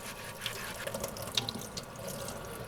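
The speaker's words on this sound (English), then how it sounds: "A little running water." Tap water running into a sink while a Dollar Tree scrubby works over a dye-sublimated ceramic tile, a soft steady trickle with faint scrubbing and drips, quiet and close.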